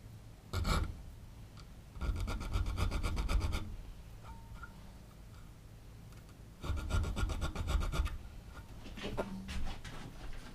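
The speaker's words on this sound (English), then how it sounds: "We're going to put a nub there," Metal file rasping nubs into a forged knife blade, heard as two bursts of quick, rhythmic back-and-forth strokes with a brief single scrape before them, close and fairly quiet.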